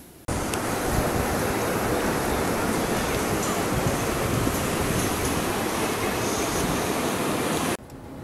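A broad, steady roar of ocean surf at the beach fills the scene, loud and continuous and mixed with wind buffeting the microphone, cutting off abruptly near the end.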